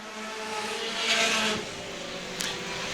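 Pure stock race cars circle Star Speedway in a heat race, a steady distant engine drone swelling briefly as a car roars past, with a faint second pass near the end.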